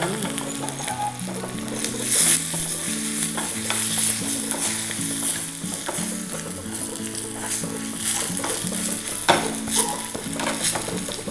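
Dried red chillies sizzle and crackle steadily in hot oil for a tempering, with stirring scrapes in the pan throughout; close, continuous frying with no talk.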